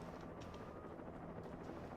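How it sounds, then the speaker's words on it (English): Helicopter in the video game Alan Wake, a continuous low rotor drone with a faint rhythmic chop, steady and moderately loud with no speech. "Oh, this helicopter is probably going to get attacked."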